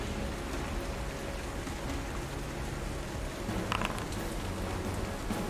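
Steady, dense rain falling on a surface, loud and continuous throughout with a faint low rumble suggesting distant thunder, used as stormy background ambience with no talking.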